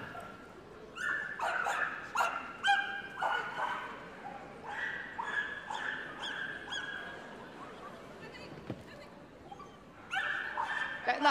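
Belgian Malinois barks and yips repeatedly in excited bursts on an agility course at a competition, close and loud, with a commentator talking underneath and crowd ambience between the outbursts.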